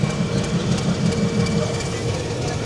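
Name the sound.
train departing Mughalsarai station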